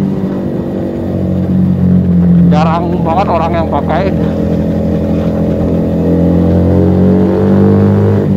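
Keeway SCR 250V motorcycle with a Mavionic exhaust drones steadily nearby, a continuous throaty engine note running throughout while someone talks briefly over it.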